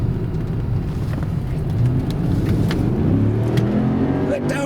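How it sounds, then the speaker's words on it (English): A 1996 Cadillac Seville accelerating smoothly from the cabin, a steady low engine hum and road rumble rising slightly, continuous and fairly loud throughout. "No torque steer at all, no jerking, just nice smooth acceleration"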